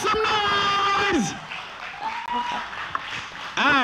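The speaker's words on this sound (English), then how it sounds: "Everybody, with a huge round of applause, please welcome Hiten Nonwell, everybody, make some noise!" Audience at The Blackout 2024 applauding and cheering to welcome a performer, as crowd noise mixes with an announcer's amplified voice.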